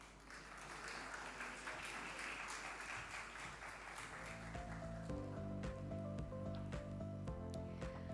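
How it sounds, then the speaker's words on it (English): Summit and awards audience applause, a soft, dense clatter of clapping that holds steady while sustained tonal music rises underneath and takes over partway through. "Can we give a big round of applause for Mr. Hari Bhakti?"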